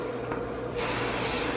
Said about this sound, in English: So I'm just going to spray just a bit